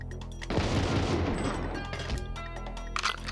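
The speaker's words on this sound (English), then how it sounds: "Why does the crates explode?" Wooden crates blowing apart in GoldenEye 007 on the Nintendo 64: a sudden loud crash and burst of debris noise that tails off over about a second, followed by softer game sounds.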